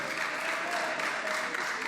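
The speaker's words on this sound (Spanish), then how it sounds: "Le damos un gran aplauso a ambos." Brief applause fills a legislative chamber session for two members celebrating birthdays; a steady, muffled wash of clapping, moderately loud, lasting under two seconds.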